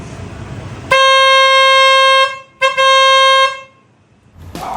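An aftermarket car horn fitted to a Suzuki Espresso blares twice, a long sustained honk followed by a shorter one after a brief gap, loud and close with no talking.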